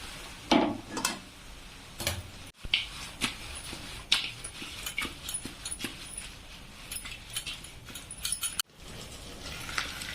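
Fish frying in a pan is stirred, with irregular close scrapes and clatters over a low sizzle, the stirring strokes coming in uneven bursts and two abrupt breaks.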